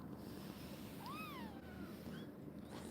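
A kitten on a talk-show set gives one rising-and-falling meow at moderate distance, followed by a softer, shorter mew, both over a steady background hiss.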